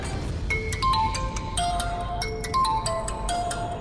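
A phone rings during an outgoing call, a repeating electronic ringtone melody of bright tonal beeps in a steady rhythm, loud and close, heard alone.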